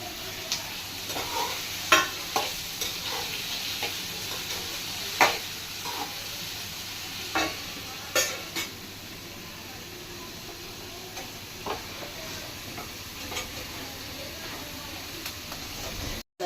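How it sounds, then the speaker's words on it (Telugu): Tomatoes sizzle in a pan, a steady low frying hiss broken by the clicks and scrapes of stirring, fairly quiet and close with no talk. "ఈ టమాటాలు కూడా వేసేసుకోవాలి మగ్గిపోతాయి"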